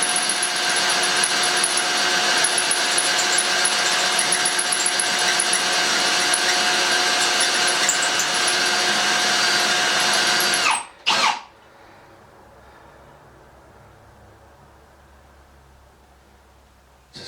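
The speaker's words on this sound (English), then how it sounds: "Maybe finish it out with the dremel the rest of the way" Dremel rotary tool grinding the exhaust of a Stihl MS200T chainsaw, a steady high-pitched whine held close and loud for about ten seconds, then cut off abruptly with a brief clatter and near silence.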